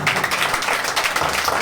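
Audience applause at a bhajan evening in honour of Shivambhai, a dense, steady roar of clapping filling the whole moment at close range with no break.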